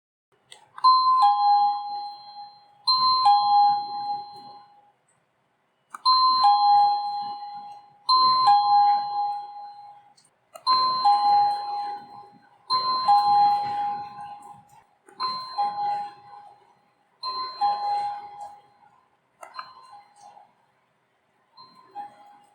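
A CACAZI A10 wireless doorbell chime rings its two-tone ding-dong melody about nine times in succession, each ring separated by short pauses, played clearly and alone at changing volume levels.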